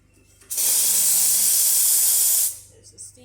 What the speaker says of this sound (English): There's the steam.